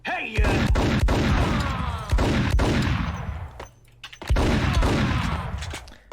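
Gunfire in the Max Payne video game comes in heavy, rapid bursts of loud booming shots with echoing tails, heard close. The volleys are split by a brief lull.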